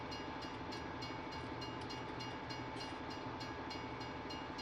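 A train rolls past farmland in Griffin, Indiana, with a continuous rumbling roar and a rhythmic clickety-clack of wheels over rail joints, steady and fairly close throughout, with no voices.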